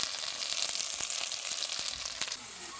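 Chopped tomatoes and spices frying in oil in a pan with mango leaves for a chicken curry, a steady close hiss and sizzle with faint scattered crackles throughout.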